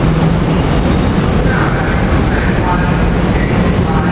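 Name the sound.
West Trenton commuter train arriving at 30th Street station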